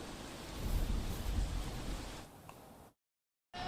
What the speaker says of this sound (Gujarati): અમદાવાદમાં હજી પણ ધોધમાર વરસાદ અવિરત વરસી રહ્યો છે